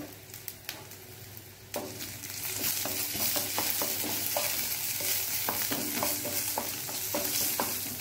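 Mustard seeds fry in hot oil for a Mangalorean-style banana flower dish, starting with a few soft clinks and then a steady, close sizzle with scattered popping crackles that continues to the end.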